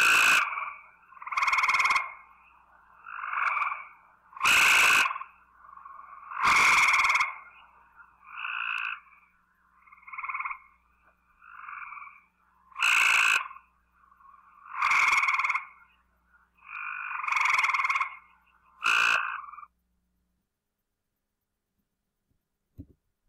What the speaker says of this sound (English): This recording has both tree frogs calling intermittently. First the Cope's, then the eastern.